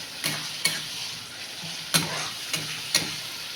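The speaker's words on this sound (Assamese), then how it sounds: "আদাৰ লগত ভালকৈ এইখিনি মছলাখিনি মই ফ্ৰাই কৰিম।" Spice paste frying with ginger in oil for a fish curry, a soft sizzle punctuated by five sharp spoon scrapes against the pan at uneven intervals, nothing spoken.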